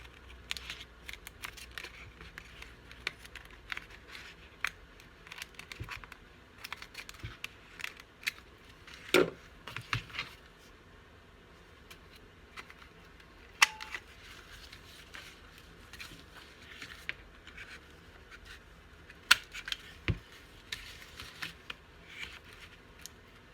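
Scissors trimming the edges of a paper craft piece, giving scattered short snips and cuts at close range, quiet and intermittent over a low room background with light handling noises.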